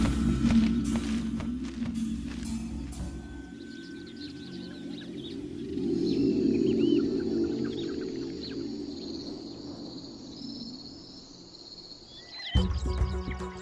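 A bird calls with thin, high chirps over a soft insect drone at a spring in lion country, fairly faint, with low rumbling at the start and a sharp noise at the end.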